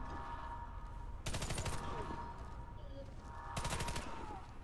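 Bursts of rapid video game gunfire in a Pripyat engineer mode match, two loud volleys of repeated shots over a busy background of game sounds and music.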